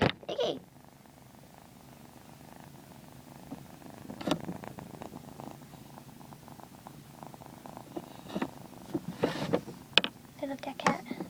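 A cat purrs softly and steadily up close, a low continuous rumble joined by scattered clicks and rustles from handling and movement.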